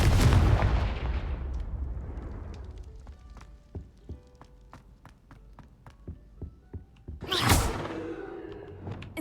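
Confringo fire spell blasts in Hogwarts Legacy: a big explosive boom at the start and another near the end, with scattered sharp impacts and taps between them.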